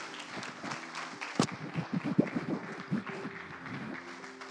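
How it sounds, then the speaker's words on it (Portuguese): A church congregation applauds during a Holy Communion celebration service, a modest patter of hand claps with a few sharper close claps, fairly faint and mixed with room murmur. "Dá um aplauso ao Senhor, em nome de Jesus."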